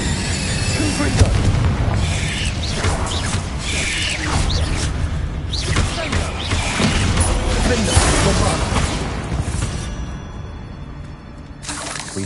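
Explosive Confringo spell blasts in Hogwarts Legacy, with a series of loud booming bursts and crackling debris spread across the scene, then fading to a quieter tail, with a voice speaking among the impacts.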